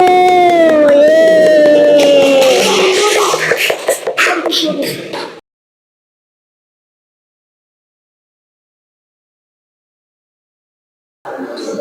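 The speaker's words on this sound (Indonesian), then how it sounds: "Tepuk tangan untuk kelompok 1." A class cheers and claps for a student group about to present on how concentration affects reaction rate in a chemistry lesson, with loud raised voices and scattered claps for about five seconds before sudden silence and a faint return near the end.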